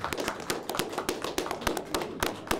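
An audience applauds presenters at an expert panel event, a burst of scattered, crisp handclaps heard up close and moderately loud.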